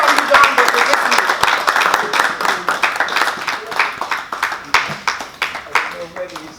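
Audience applause at a scouting session meeting, close and fairly loud clapping with distinct individual hand claps, while a voice talks over it throughout.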